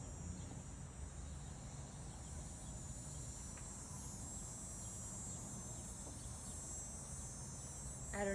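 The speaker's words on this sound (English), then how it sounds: "the cicadas are so loud right now" A dense, continuous drone of loud cicadas fills an outdoor yoga class setting, steady and unbroken from start to finish with no voices.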